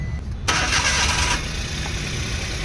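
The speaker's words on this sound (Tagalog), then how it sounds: "I-try nating paandarin ang makina." A Suzuki DA64W with a K6A turbo engine cranks and catches, then idles roughly and unevenly with a misfire, loud and close.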